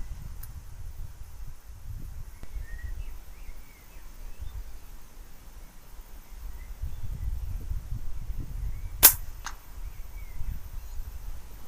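An FX Impact M3 air rifle fires at a rabbit on a golf course: one sharp, loud crack with a fainter snap right after it, breaking a long stretch of quiet outdoor rustling and soft low wind.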